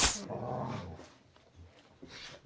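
Dogs growl low and rumbling, with a few short barks and whimpers mixed in, moderately close, ending in scattered quieter snarls.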